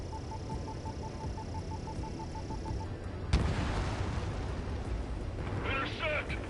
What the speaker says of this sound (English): Mage 2, bombs away.